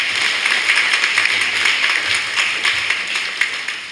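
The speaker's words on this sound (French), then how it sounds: "Ensemble, nous nous applaudissons et merci." An audience applauds at a 50th jubilee celebration at the Carmel de Boussu monastery: steady, dense clapping that fills the whole stretch at an even, fairly loud level.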